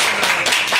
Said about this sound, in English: I want to give a warm round of applause for Damali Cooper, for Ms. Margaret Cox.